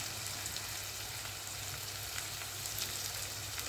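Semolina dry-roasting in a pan for upma, with onion and a pinch of salt added, gives a steady, close crackling sizzle that holds even throughout, with no talk over it.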